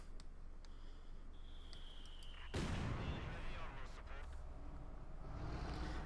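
Mortar fire in the World War II strategy game Company of Heroes 2, a sudden loud blast rising out of quiet battlefield ambience, followed by a ringing, decaying rumble, with faint chirping sounds earlier.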